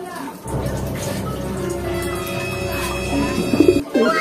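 Breeder pigeons being paired coo softly and repeatedly close by, low throaty coos running through the whole stretch with a brief burst of fluttering or movement near the end.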